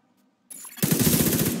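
Automatic gunfire in the video game The Division 2 at the Lincoln Memorial: after near silence, a loud rapid burst of rounds erupts and rattles on for under a second.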